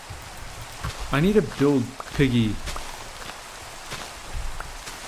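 Steady rain in the Minecraft video game patters as a soft, even hiss throughout, with someone talking over it.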